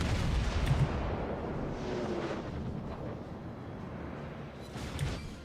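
Battleship main-gun salvos from the Amagi in World of Warships, deep rolling booms that blend into a continuous rumble, with a fresh burst swelling near the end.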